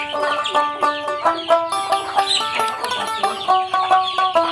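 Domestic hens kept at a village home cluck in short repeated bursts, several birds close by in an irregular rhythm, with no talk over them.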